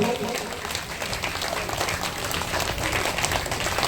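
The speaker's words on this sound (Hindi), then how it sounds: "ताली बजा करके इस भजन का आनंद लीजिए" An audience claps along during a bhajan at a Hindu religious katha gathering in Chhapra, Bihar, a steady dense patter of many hands sustained throughout, mixed with voices.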